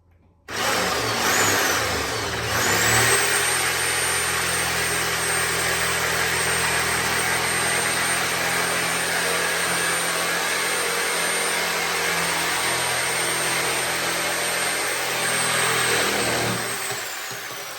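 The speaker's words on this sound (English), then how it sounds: "we're just gonna do this with the reciprocating saw" A reciprocating saw cuts through metal stock for a DIY garage road shower build, a loud, steady high-pitched whine with a harsh buzzing rasp holding for about fourteen seconds before stopping, close up with no talking.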